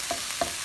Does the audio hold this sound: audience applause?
no